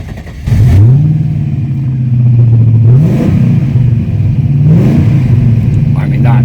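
A TVR Chimaera V8 with 133K miles, heard up close: the deep engine settles into a loud idle, then blips upward twice in quick rev surges before dropping back.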